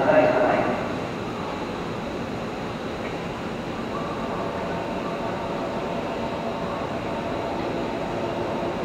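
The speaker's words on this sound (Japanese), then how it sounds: "まも なく2番線に列車が入ります。" A train pulls in to platform 2 at a Japanese shinkansen station, a steady loud rumble and rush of wheels filling the whole stretch, with station announcements and voices faintly over it.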